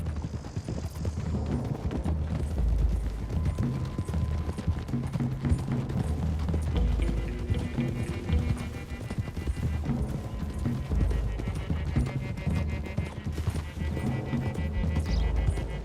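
Several horses galloping in the Red Dead Redemption 2 video game, a fast, dense clip-clop of hooves running throughout, with a brief whinny and game sound effects mixed in.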